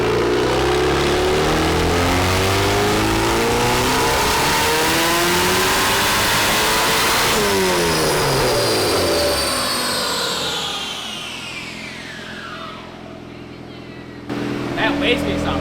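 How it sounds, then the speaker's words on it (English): Turbocharged Volkswagen engine swapped into an E36, revving hard on a dyno with a loud sustained roar that rises and then falls away, followed by a wastegate whoosh and voices talking over it. "That wastegate sounds crazy. Yeah, it sounds so good."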